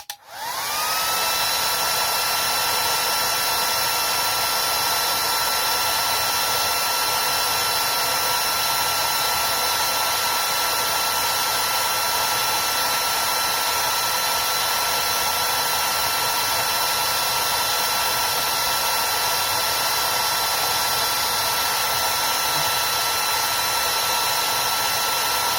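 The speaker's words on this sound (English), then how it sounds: "cheap blow dryer." A cheap blow dryer heating a magnesium leather stamp gives a loud, steady whine and airy rush that starts abruptly and runs unbroken, close by, with no talking.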